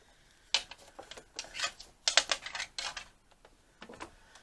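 Sewing machine basting a strap on thick cork fabric with a lengthened stitch, a few short, sharp mechanical clicks and ticks in uneven bursts, close and fairly quiet, no voices.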